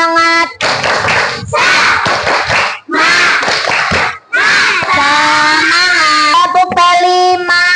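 A school class performs a rhythmic spirit clap in a classroom, bursts of loud unison clapping in patterned beats mixed with shouted chanting voices, pausing briefly between rounds.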